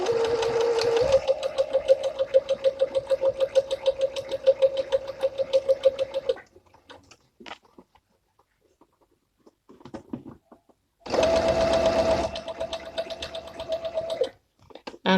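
A sewing machine stitches a fabric cover for a baby car seat in a fast, even needle rattle, running for about six seconds, stopping amid faint handling noises, then starting again for a few seconds, close and alone.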